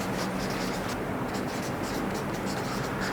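Pen or pencil scratching steadily across paper by hand, a continuous close scratchy texture running without pause under faint room noise.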